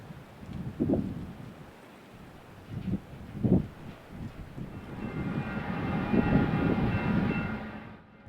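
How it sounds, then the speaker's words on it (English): A southbound freight train led by two GE locomotives tears through Grant Park, rumbling in with heavy thumps and clanks before swelling into a sustained loud roar with a bright metallic ring. "Two GEs are in charge of a southbound MPRAS tearing through Grant Park."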